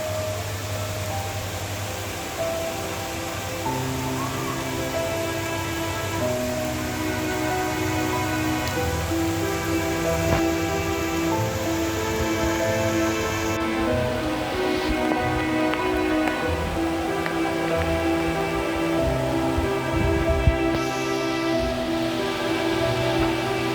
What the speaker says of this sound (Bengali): দেখতে পাচ্ছেন প্রচুর পরিমাণ বৃষ্টি হচ্ছে আজকে।